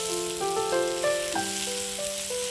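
Onions sauté with spice paste in a pan over high flame for a Kerala-style mutton dish, giving a soft, steady sizzle close by while a melody plays over it.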